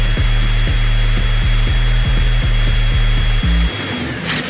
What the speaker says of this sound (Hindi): ये तो नया वैक्यूम क्लीनर था